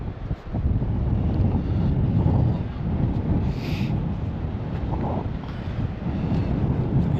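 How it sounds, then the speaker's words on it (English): Strong wind sweeps across Druridge Bay beach in Northumberland during sea fishing, a constant loud rushing roar buffeting the microphone with gusty low rumbles, steady throughout. "It is pretty windy the day,"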